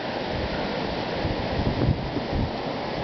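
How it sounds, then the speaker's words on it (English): Strong wind roaring through an Iowa blizzard, a steady broadband rush with gusts swelling near the middle, buffeting close to the microphone without voices. "The wind is really whipping."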